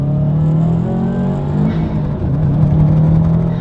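A 2019 Subaru STI with all-wheel drive, its engine droning steadily from inside the cabin while driving, a loud continuous low rumble with a slight swell in pitch midway.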